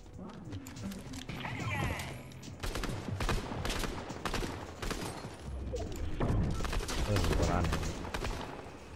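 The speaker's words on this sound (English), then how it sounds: "Stop shooting at me, bro." Rapid bursts of video game gunfire from a loot-and-chest shooter, with repeated sharp shots and automatic volleys dense across the stretch, loud and close, while a player talks over them.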